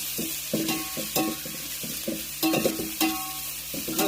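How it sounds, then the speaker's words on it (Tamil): Onions being sautéed and stirred in a pan for chicken biryani, with a steady sizzle broken by repeated scraping and stirring knocks at close range, no voices. "வெங்காயம் போட்ட உடனே கொஞ்சம் வதக்கிக்கிறோம்"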